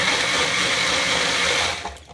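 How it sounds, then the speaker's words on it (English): A blender runs loud and steady, whirring through a mix of cauliflower taco ingredients with olive oil, lime juice and salt, then spins down and cuts off near the end. "So here we go, blending."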